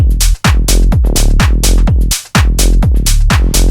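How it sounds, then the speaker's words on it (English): A melodic tech house bass line pulses in a steady four-on-the-floor groove with pitched notes shifting underneath punchy kicks, loud and upfront, no voices. "So the first one I like to call the melodic bass line,"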